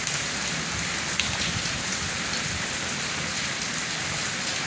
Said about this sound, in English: We don't need no hail or sleet. We just need rain.